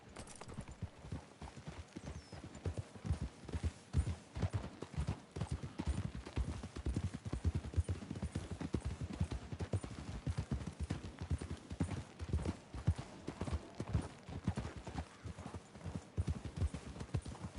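Steady clip-clop of horse hooves walking at an even pace in Red Dead Redemption 2, close and continuous, with a faint whinny now and then.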